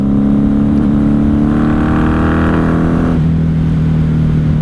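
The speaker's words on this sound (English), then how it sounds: "I'm going to downshift, engine brake." A 1994 Honda Magna 750 motorcycle downshifting, its engine note rising into a brief higher-revving whine under engine braking and then dropping back to a steady drone, over constant loud wind rush.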